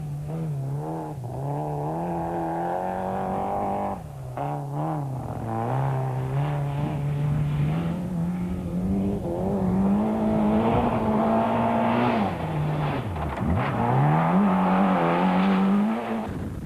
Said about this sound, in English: Stark and Cindy take it easy over one of the more rough sections of the stage.